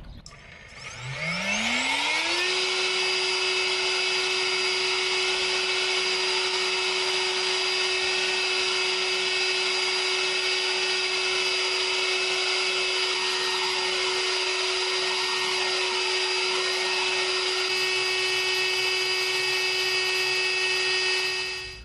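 A GardenJoy 40V battery leaf blower spools up and runs steadily with its nozzle held straight against turf, a loud sustained motor whine with rushing air that holds for about twenty seconds before easing off.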